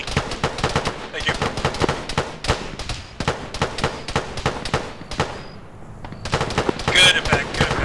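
High-explosive artillery rounds and heavy gunfire crack and boom in dense, rapid volleys, loud and close throughout, with radio chatter mixed in.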